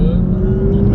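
A BMW M2 engine hums at about 40% throttle during drifting practice, a steady low drone with a constant tone across a short stretch, running loud and close.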